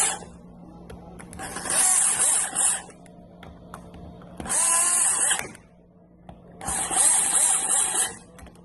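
Bolts on a drag car are run down in three bursts by a power tool, each a whirring, high-pitched spin of about a second and a half, close up, with quieter workshop hum between them.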